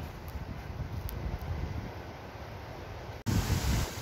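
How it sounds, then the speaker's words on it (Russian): Strong autumn wind buffets a garden in a steady, rushing roar against the microphone, with a sudden louder gust near the end. "И такой сильный ветер."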